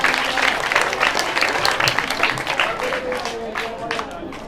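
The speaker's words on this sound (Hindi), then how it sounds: "टीम ए के लिए जोरदार तालियां हो जाएं" An audience at an Islamic quiz claps loudly for team A, a dense burst of close applause that tapers slightly over its few seconds, with voices mixed in underneath.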